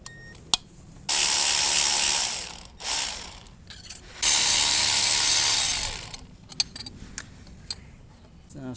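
Ratchet wrench clicking steadily as it loosens a 10 mm bolt on the intake manifold bracket of a 2019 Honda Accord, in two long close bursts with shorter bursts between and scattered metallic taps around them.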